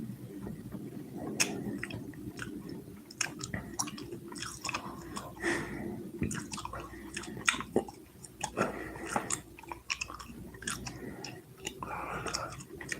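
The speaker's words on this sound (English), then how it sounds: "Has my gum chewing made everybody fall asleep?" Gum chewing close to the microphone, moist and smacking with steady irregular squishes and clicks for the whole stretch, alone without talk.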